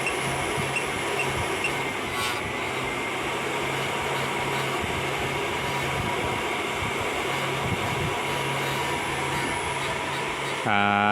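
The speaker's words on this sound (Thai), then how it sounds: "ตัวพัดลม ตอนทำงานแรกๆ เสียงดังหน่อยนึงนะฮะ" The worn cooling fan of a Suoer 1000VA grid tie inverter drones loudly and steadily at close range, a constant whooshing whir with a low hum that shifts abruptly near the end.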